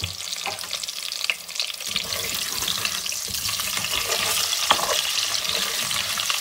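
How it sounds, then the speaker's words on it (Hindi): Potatoes fry in a pan with a little salt, giving a dense, steady sizzle with scattered crackles and occasional stirring scrapes, close and continuous with no talking. "बिल्कुल थोड़ा सा नमक डाल के इसको करेंगे हम लोग फ्राई"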